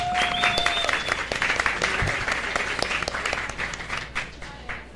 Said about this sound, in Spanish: Un aplauso para Catalina.